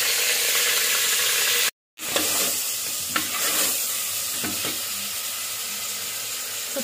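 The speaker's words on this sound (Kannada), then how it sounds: "ಚೆನ್ನಾಗಿ ಫ್ರೈ ಮಾಡ್ಕೋಬೇಕು ಮಟನ್." Washed mutton frying in a hot pan for mutton curry, a loud, close, steady sizzle with occasional stirring knocks, briefly broken by a moment of silence.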